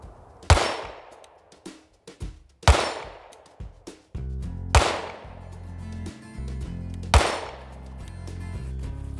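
Single 9mm pistol shots fired with 115 grain Supervel ammunition, four loud sharp cracks spaced a couple of seconds apart, each with a short ringing decay and faint clicks between.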